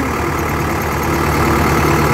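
A steady, rumbling Agri King T70 tractor engine idles close by without change for the whole stretch, a low mechanical drone with no voices.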